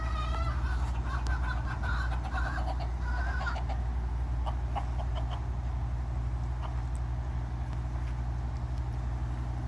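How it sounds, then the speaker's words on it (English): Hens cluck and a rooster calls on a street in Florida, the soft clucking coming in short bursts over a steady low hum of traffic and a constant ambient rumble. "Beautiful birds."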